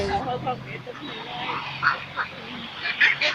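Ducks roaming a field quack in a busy, overlapping chorus at middle distance, a constant flock murmur with a few louder calls poking through, while people talk over it.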